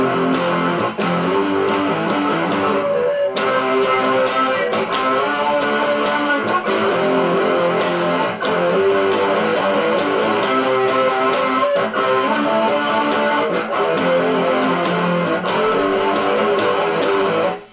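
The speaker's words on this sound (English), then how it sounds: "in which case I activate my distortion pedal, but I leave my chorus on" Distorted electric guitar power chords with a chorus effect stay on, playing the bridge of a song in a dense, loud, sustained wall of strummed chords. One short break comes early, and no voices are heard.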